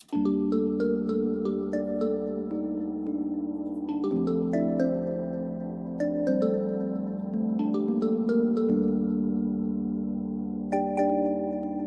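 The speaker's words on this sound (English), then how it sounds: "And then I used like a marimba type of thing." Marimba-like bamboo bells sample playing a bright, plucked melodic pattern in an amapiano track, with repeated mallet-like notes over a sustained low pad, loud and steady with no voices.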